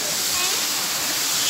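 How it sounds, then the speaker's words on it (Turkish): Çiseli waterfall in Ordu, Turkey, running strongly: a steady, dense broadband roar of falling water, loud and unbroken throughout. "şelalemiz gürül gürül akıyor"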